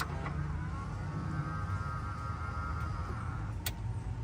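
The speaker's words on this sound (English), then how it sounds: "So if I do this, you know, it'll open up the mirror." A power folding side mirror motor on a 1999–2002 Chevrolet Tahoe/Silverado whirs faintly for about three seconds, a thin steady hum sitting over a low rumbling idle background, ending with a small click.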